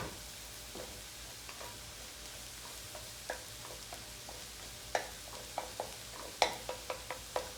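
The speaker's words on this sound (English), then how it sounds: "my eggs for my stir fry. I'm just going to cook these till they're fully cooked" Eggs frying and being stirred in a pan for stir fry, a soft steady sizzle broken by a run of sharp spatula scrapes and taps that grow more frequent toward the end.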